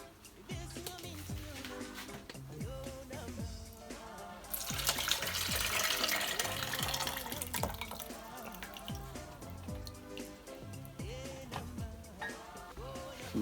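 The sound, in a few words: pouring broth into a measuring jug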